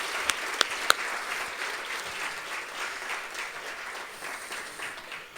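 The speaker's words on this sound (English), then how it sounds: "Can you please clap for Rishikesh and his team?" An audience at a conference hall claps steadily for a team, a sustained wash of applause with a few sharp claps standing out near the start, continuing without speech.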